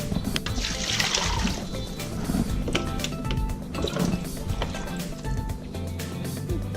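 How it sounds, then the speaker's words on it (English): Four cups of broth are poured into a pot for teriyaki chicken, making a steady close liquid pour with splashing and gurgling, with a couple of brief pauses between pours. "we're going to put 4 cups of broth"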